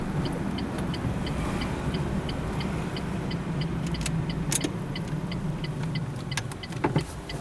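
A car passes close by a learner driver's car as it turns left near the Wrocław driving exam centre, a steady road rumble with the regular ticking of a turn signal throughout.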